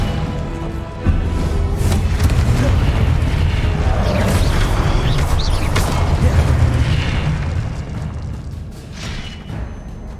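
An Incendio fire spell cast in Hogwarts Legacy sets off a sudden whooshing blast that becomes a sustained loud crackling roar, then tapers slightly toward the end, with no talking.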